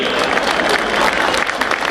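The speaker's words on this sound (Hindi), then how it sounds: "भाई ताली थोड़ी सी जोरदार कर दो," Audience clapping at a gathering of lawyers, a dense continuous patter of many hands at moderate level throughout, with some voices mixed in.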